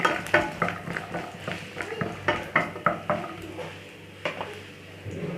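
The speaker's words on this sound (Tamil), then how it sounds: "முந்திரி, அதையும் போட்டு ஃப்ரை பண்ணிக்கோங்க" Cashews frying in a pan for a butter mushroom masala, a soft sizzle under frequent clinks and scrapes of a spoon against the pan, irregular and close, with no voices.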